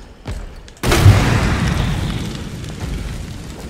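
A single loud, deep explosion bursts in abruptly in the video game Resident Evil 2 Remake, followed by a long rumbling roar that slowly fades, with no voices.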